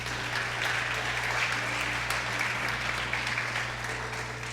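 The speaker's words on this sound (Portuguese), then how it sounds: "Dá um aplauso aí, ele vai." A church congregation claps together during a sermon, a steady broad wash of applause lasting several seconds over a low, constant hum from the hall's sound system.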